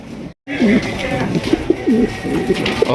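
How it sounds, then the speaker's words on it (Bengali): Pigeons for sale coo in low, rolling bursts close by, repeated several times over a busy background of chatter and movement. "এক কথায় দেখার মতো এক জোড়া কবুতর পাইতেছেন"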